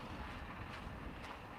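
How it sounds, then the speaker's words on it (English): Wind buffeting a microphone outdoors on a walking trail, a constant low rumble with no other distinct sounds. "Oh, another windy day out here on the trail."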